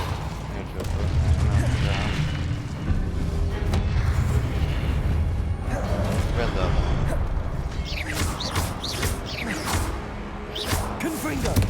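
Confringo fire spell cast over and over in Hogwarts Legacy, a stream of booming magical blasts and whooshing bursts with crackling impacts that runs loud and dense the whole way through, the rapid hits overlapping into a constant barrage.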